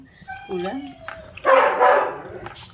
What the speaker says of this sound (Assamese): কুকুৰকেইটা কান্দি আছে।